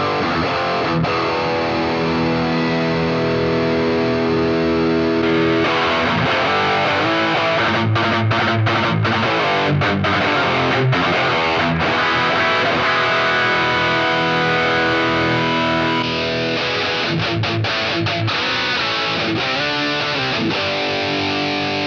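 A guitar runs through a Boss GT-1000 Core distortion amp model, with thick, driven chords and riffs ringing in bursts separated by short stops, played loud with no talking.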